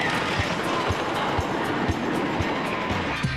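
The Thunderbolt wooden roller coaster's classic National Amusement Device Company train runs along its track with a steady rushing rumble and evenly spaced clicks about every half second, loud and continuous with no talking.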